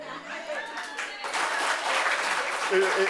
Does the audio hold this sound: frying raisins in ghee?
no